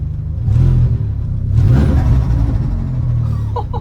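A modified Seat Ibiza 6L with a 1.8T BAM turbo engine and an aftermarket blow-off valve, heard from inside as it revs in two loud surges, then eases off with a brief fluttering chatter.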